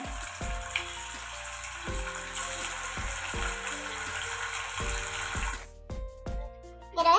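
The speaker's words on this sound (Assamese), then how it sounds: "এয়া তেল গৰম হৈ গৈছে। এতিয়া আমি পনীৰ দি দিম। পনীৰটো ফ্ৰাই কৰি লৈছোঁ অলপ এনেদৰে।" Paneer cubes fry in hot oil, a steady broadband sizzle for most of the clip that drops away near the end, with tonal background music running underneath.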